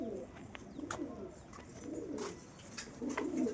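Several pigeons coo in low, rolling phrases that repeat through the stretch, with a couple of short higher chirps over a steady background hum and no talk.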